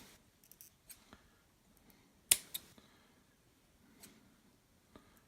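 A few sharp snips of small cutters trim a fake plant stick for a miniature base, one crisp cut standing out among faint clicks in an otherwise quiet room.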